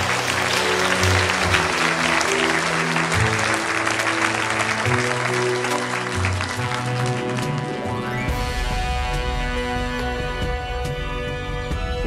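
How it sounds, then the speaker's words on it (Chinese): An audience bursts into sustained, dense applause that stays loud and steady for the first several seconds, then music takes over while the clapping thins beneath it. "来，鼓掌。"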